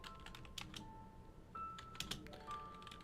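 Soft, quiet typing on a computer keyboard: scattered light key taps close to the mic against a faint background hum, with no talking.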